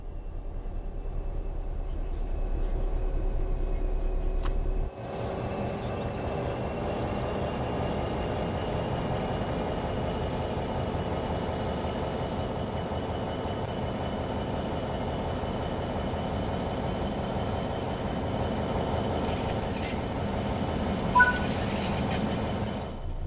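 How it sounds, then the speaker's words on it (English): A train in the Train Sim World 3 video game pulls away under throttle, its traction motors droning in a steady, loud hum with rumbling wheels that build after an initial low idle. Faint high squeals come near the end. "Apply some throttle, train moving."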